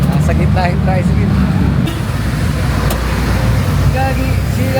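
Tricycle moving in the middle of road traffic, a steady engine and traffic roar filling the background throughout, with voices and faint horn-like tones over it.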